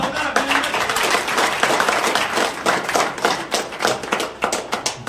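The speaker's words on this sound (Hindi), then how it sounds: "तालियों के साथ" Audience clapping in a hall rings out steadily after a talk about a Jaipur to Rameshwaram cycle journey, dense irregular hand claps with a voice faintly underneath.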